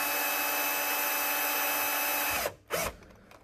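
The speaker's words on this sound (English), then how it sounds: "And I'm drilling into the plastic." A power drill drilling into 3D-printed plastic whines steadily for a couple of seconds, then stops abruptly with a brief restart burst near the end.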